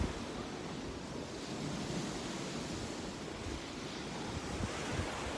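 Steady broadband surf washes along the Tel Aviv waterfront, a continuous roar of sea waves close by with wind noise mixed in and no voices.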